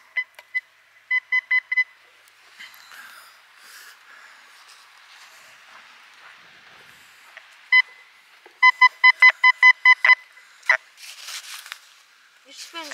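Metal detector on a beach gives repeated electronic beeps in short bursts, a quick run of tones early and a rapid string of pulses later, with rustling of sand and gear between them.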